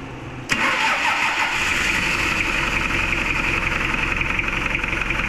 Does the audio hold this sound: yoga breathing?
no